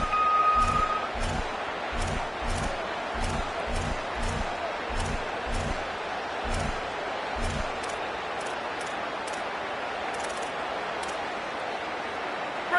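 Roaring stadium crowd noise in a college football video game, a dense steady wash over rhythmic low thumps in the first half, continuing loud throughout with no other sound standing out.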